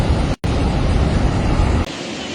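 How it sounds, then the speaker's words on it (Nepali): Floodwater of the Trishuli river surges against bridge pillars in a loud, steady roar that cuts out for a brief moment, then continues. "3टा पिल्लरमा चाहिँ एकदमै बढी हानेको छ पानीले"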